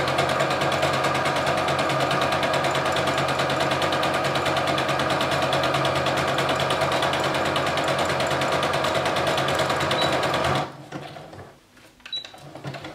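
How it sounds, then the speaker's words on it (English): A sewing machine running steadily as it zigzag-stitches two fabric edges together to finish a seam, a loud continuous buzzing rattle that stops abruptly near the end, leaving quiet handling noise. "I'm just gonna zigzag those two edges together"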